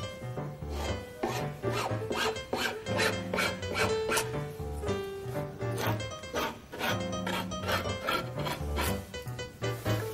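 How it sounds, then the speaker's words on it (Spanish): Rhythmic rasping strokes scrape back and forth, close and fairly loud, as excess laminate is trimmed from the edges of a furniture panel, with a dog barking now and then. "vamos a proceder a refilar el excedente de cada costado"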